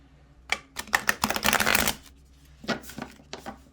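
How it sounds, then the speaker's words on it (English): Stiff, brand-new oracle cards being riffle shuffled, with a few sharp flicks followed by a dense, loud burst of fluttering card riffle lasting about a second, then softer taps and shuffles as the deck is squared up. "I don't know whether or not these can be riffle shuffled."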